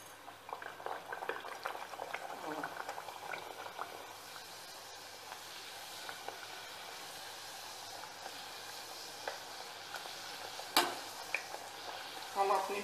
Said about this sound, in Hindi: हमारा तेल गरम हो चुका है, धीमे धीमे इसमें पूड़ी ऐड करेंगे